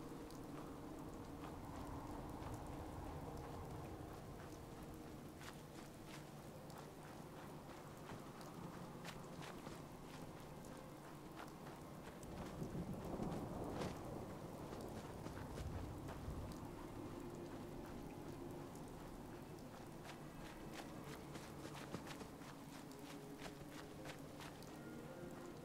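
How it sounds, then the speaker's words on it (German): Heavy rain pours steadily in Fallout 4 with a weather mod that intensifies it, a constant dense hiss with a low thunder rumble swelling midway and occasional footsteps, no talking. "Das mit dem Regen ist übrigens auch eine Mod, die ich installiert habe, damit der Regen einfach stärker ist"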